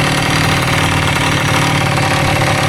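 A Honda CR85 dirt bike, freshly rebuilt with a Wiseco kit, runs loud and close with a steady buzzing two-stroke engine note throughout, no voices.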